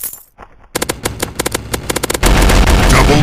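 Loud machine-gun bursts in the blocky online FPS Block Gun, with sharp rhythmic shots in quick clusters after a brief quiet start, ending in a sustained roaring blast.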